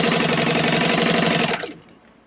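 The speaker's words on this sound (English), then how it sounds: "we're going to sew those together, open up the seams, and then top stitch the seams down." A sewing machine runs at a fast, steady rhythm, stitching fabric seams for a bucket bag with a three-stitch length, loud and close, then slows and stops.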